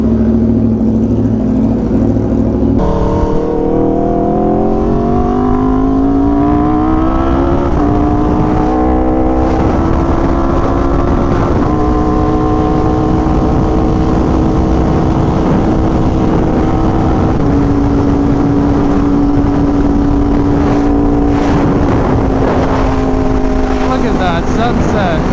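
A motorcycle engine runs loud and close during a ride, its droning pitch climbing as it accelerates early on, then holding a steady, buzzing hum with slight shifts through to the end.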